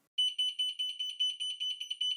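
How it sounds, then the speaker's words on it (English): An Alarmo home alarm system running on Home Assistant sounds after being triggered, giving a shrill electronic beeping in rapid, regular pulses, steady and alone. "then the alarm's going to sound."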